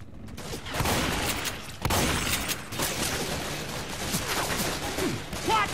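Gunfire in the zombie shooter Left 4 Dead 2, rapid bursts of shots and impacts layered over game noise, dense and continuous through the stretch.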